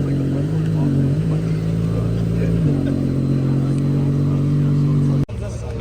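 Ferrari 812 Competizione driving in, a low steady engine rumble with a couple of throttle shifts, close by, with people talking over it.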